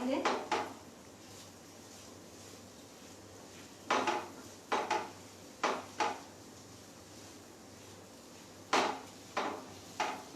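Boiled potato filling for samosas mixed in a bowl, a series of sharp spoon-on-bowl knocks and scrapes in irregular bursts with quiet gaps, close by.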